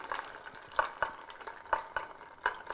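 A cocktail stirred over ice to chill it, with a soft swirling whoosh and light, regular clinks of ice against glass, close and quiet, with no talking.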